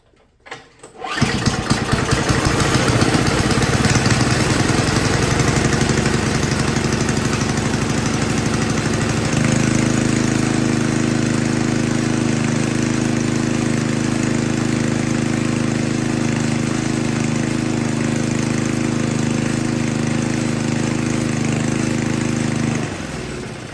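A Craftsman snowblower engine set to full throttle and full choke in bitter cold fires up after a brief crank and settles into a loud, steady run, with its pitch stepping slightly partway through.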